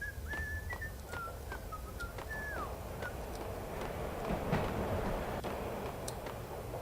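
A tuneful whistled phrase of gliding, sustained notes sounds during the opening seconds inside the video game Max Payne, over a steady background rumble with scattered clicks, and no one speaks.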